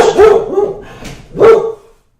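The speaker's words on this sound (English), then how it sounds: "There's a dog here, so just ignore him." A dog barks close by, two loud separate barks with a short gap between them, then silence.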